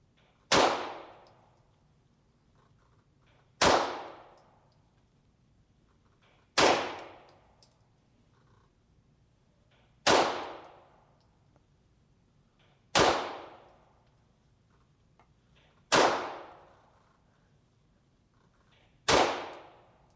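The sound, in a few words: gunfire from a MAC9 DS Comp at the range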